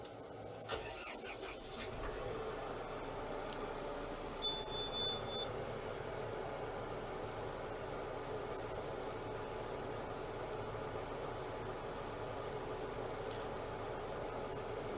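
A new YTO NLY 1104S Chinese tractor engine starts with a brief burst of noise, then settles into a steady, even idle that runs on without any talking.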